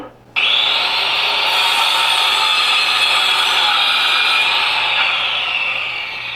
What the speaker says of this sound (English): Sounds like a table saw.